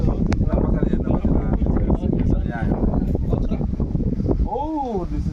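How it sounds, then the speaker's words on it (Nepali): Wind gusts across a hilltop on a hike to Bishnudwar, Shivapuri, a steady close rumble on the microphone that runs through the whole stretch, with a person talking over it. "एकदम हावा चलिरहेको फ्रेस एयर।"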